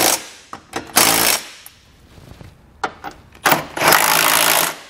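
Trailer hitch bolts on a 2020 Kia Sportage being tightened with a 17mm socket, bursts of rapid ratcheting clicks separated by pauses and small knocks, close and loud.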